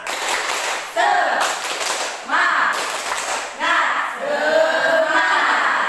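Students in a Grade 7 class repeat a rhythmic spirit clap, with loud, crisp bursts of group clapping at regular intervals. Chanting voices mix in between the clapping.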